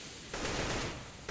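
Rapid automatic rifle fire from an AK-47 against an AWP in a professional Counter-Strike match, a dense burst of gunfire after a short lull, moderately loud with a brief second burst at the end.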